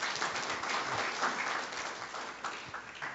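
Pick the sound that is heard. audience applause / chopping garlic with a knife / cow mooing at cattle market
audience applause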